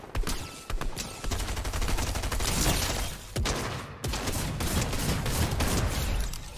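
Rapid shotgun fire in the Fortnite video game, a dense burst of loud, fast-repeating blasts with short gaps, heard alone without talk.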